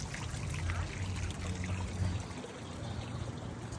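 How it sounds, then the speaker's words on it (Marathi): Hot spring water trickles and pours steadily from tufa rock, a continuous close wash of splashing with no pauses and no voices. "हा तुफा रॉकमधून आलेलं गरम पाणी आहे."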